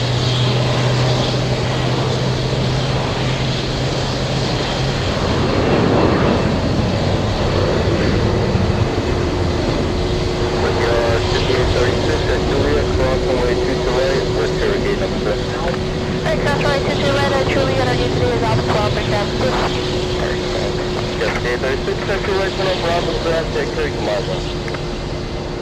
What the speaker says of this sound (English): A330 flying in from London's Heathrow.